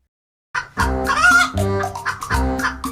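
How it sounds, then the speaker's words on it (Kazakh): A chicken clucks and squawks in a run of close, loud, repeated calls with no talking. "Бұл тауық."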